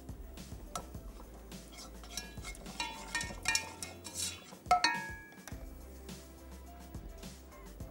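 Ginger garlic paste stirred into 3-4 tablespoons of oil in a pan, with irregular metallic clinks and scrapes of a spoon against the pan, close and fairly soft.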